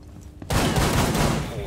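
Loud, dense burst of rapid gunfire from a gun in the video game Rainbow Six Siege, erupting suddenly after a quiet moment and continuing in a sustained fusillade.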